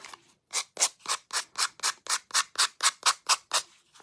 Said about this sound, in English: I'm just going to lightly sand it.